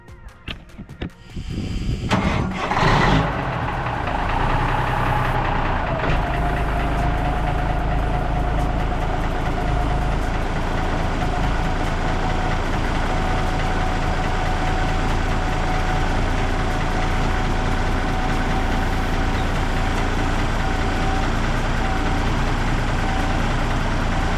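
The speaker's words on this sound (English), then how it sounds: "Now I can hear what it sounds like with this stupid muffler on it." A Peterbilt 359 truck engine with a muffler fitted starts with a few rough bursts and then settles into a loud, steady, deep idle that runs close up and unbroken to the end.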